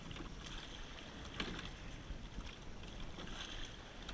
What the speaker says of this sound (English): And that comes from the whole boat rowing together.